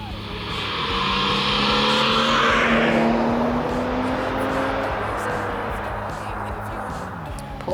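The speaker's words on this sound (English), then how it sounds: "Car number 11 now, the BMW M3 convertible with hood down." A BMW M3 convertible races on a track with its hood down, its engine roaring loudly as it approaches and sweeps past. The sustained engine note slowly fades as the car pulls away.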